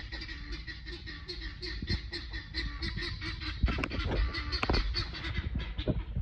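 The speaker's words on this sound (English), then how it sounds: "Those are the guineas. They're having a good time this morning." Guinea fowl on a rural property calling in a noisy chorus, rapid repeated harsh cackling notes, fairly close and steady, with a few louder bursts partway through.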